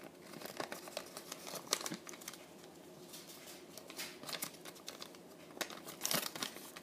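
Paper crinkles and rustles in bursts while an origami boomerang box model is being folded, with soft crisp creases and crumples, some sharper than others, heard close and with quiet pauses between.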